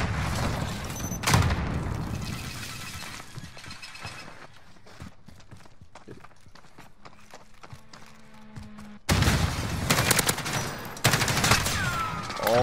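Kilo 141 Grau assault rifle fire in a video game, with bursts of rapid shots near the start and again loudly in the final few seconds, separated by a quieter stretch of game sounds.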